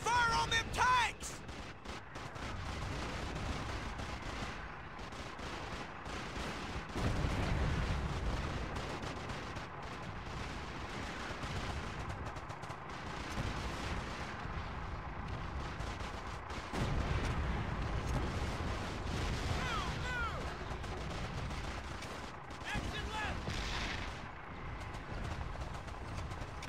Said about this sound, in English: We need suppressing fire on them tanks!